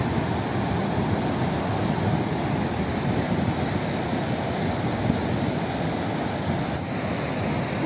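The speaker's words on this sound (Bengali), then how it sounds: "পুরো কিরকম সমুদ্র উত্তাল অবস্থা তোমরা" Rough, high-tide sea waves at Shati al Qurum beach in Oman roar in a dense, continuous wash, loud and close, with wind buffeting mixed in.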